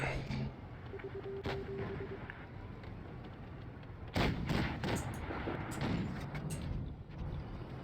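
A tank cannon firing in a tank video game, a sharp loud blast followed by rumbling echo and scattered impact cracks, with quieter engine and battle noise before it.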